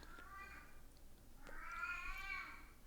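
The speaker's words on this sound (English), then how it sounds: "she eats and then starts meowing" A house cat meows twice, a short call followed after a pause by a longer, drawn-out one, fairly close and clear over a quiet room with no talking.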